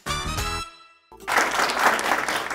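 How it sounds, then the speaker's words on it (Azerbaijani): Studio audience at a comedy show applauding, a short burst of clapping that swells after a brief musical sting and a moment of near silence. "Alqışlar."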